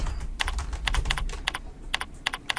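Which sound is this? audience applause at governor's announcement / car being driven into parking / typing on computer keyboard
typing on computer keyboard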